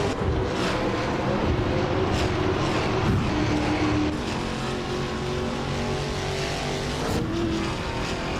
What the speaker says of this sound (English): Deplorable Apple is leading the race in a 2021 Chevrolet Camaro from the Trans Am class.